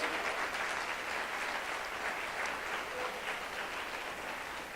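A church audience applauds during a Portuguese-language leadership training service, a steady dense wash of many hands clapping that holds evenly throughout without pause.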